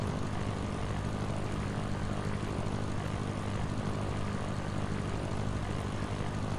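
A Cessna propeller plane engine drones steadily and loudly in a flight simulator game, a constant unbroken hum with no voices over it.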